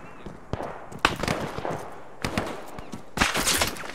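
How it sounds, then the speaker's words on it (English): Sharp bursts of gunfire ring out in a WWII video game battle of the Third Battle of Kharkov near a factory complex, with several loud, irregular shots and volleys at close and middle distance over steady background battle noise. "We're taking too much fire."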